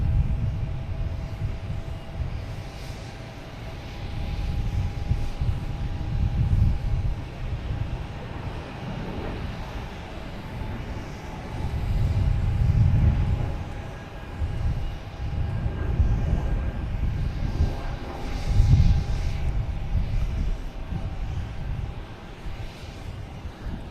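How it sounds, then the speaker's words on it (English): A JetBlue Airbus A220 jet departs Boston Logan for Milwaukee, its engines a broad, steady roar that swells and eases over the span, with some wind buffeting the microphone. "JetBlue heading to Milwaukee."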